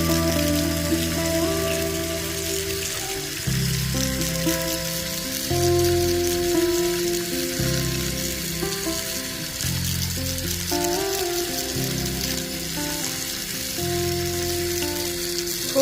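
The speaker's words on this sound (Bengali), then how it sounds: "হ্যাঁ, মাছটা ধুয়ে ভাজতে দিলাম।" Snakehead fish fries in a pan with a continuous crackling sizzle, close and steady. Background music plays throughout.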